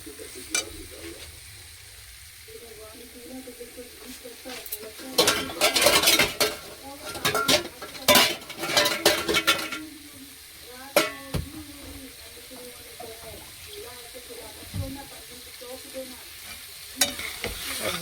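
Vegetables frying in a pan with spiced masala as water is poured in, stirred with a spoon against the pot and sizzling in loud bursts around the middle, then quieter simmering with occasional scrapes.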